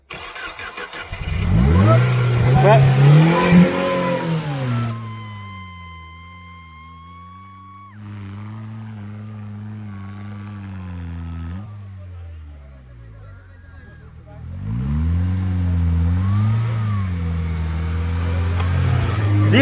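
The engine of a homemade 4x4 buggy revs hard on the throttle, rising and falling, then settles into a quieter, steady idle before surging loudly again, with voices shouting nearby.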